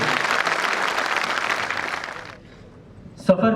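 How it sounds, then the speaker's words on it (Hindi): A loud burst of audience applause at the Srijan 2016 cultural event fills the opening seconds, then tapers off and fades into near quiet, and a voice starts up right at the end. "एक बार जोरदार तालियां सभी के लिए।"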